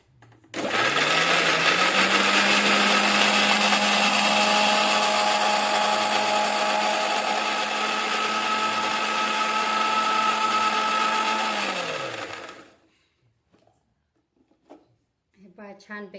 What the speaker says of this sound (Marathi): हे आपण मिक्सर करणार आहोत